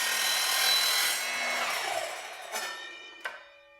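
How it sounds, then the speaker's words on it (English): A saw fitted with a steel-cutting blade cuts through steel window-frame stock on a bus, giving a steady, harsh grinding whine that tapers off. Two sharp metallic clanks follow near the end. "for cutting steel, after you get the proper steel cutting blade on it, good to go"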